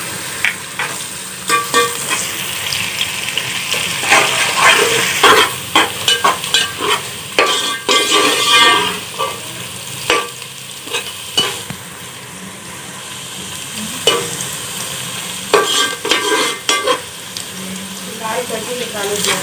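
Onions frying in a pan for fish salan, a continuous sizzle broken by repeated scraping and clanking as a spoon stirs them, loud and close, with someone talking at times over it.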